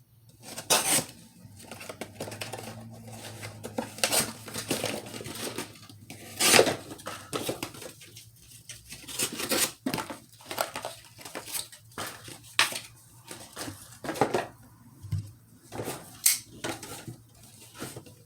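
A knife blade slicing through saved test material in repeated cuts, each stroke giving a sharp crunching snap followed by quieter scraping and handling noises, close and irregular in rhythm over a longer stretch.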